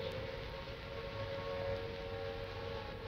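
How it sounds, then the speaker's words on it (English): Air raid sirens wail in Trafalgar Square during the Second World War, a steady sustained drone heard from a distance amid a broad, noisy outdoor background with no voices. "The noise that you hear at the moment is the sound of the air raid sirens."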